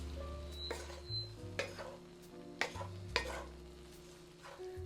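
Meat filling with flour cooking in a pan for a cheeseburger pie, stirred with a few scraping clinks of a utensil over a low, steady sizzle, with a faint hum beneath.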